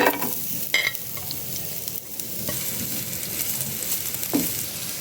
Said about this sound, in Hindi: यहाँ पे प्याज का कच्चापन दूर करेंगे, कोई कलर नहीं देंगे।